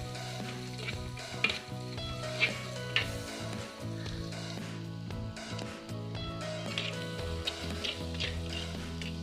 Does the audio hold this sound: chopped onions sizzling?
yes